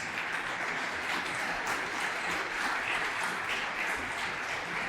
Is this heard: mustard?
no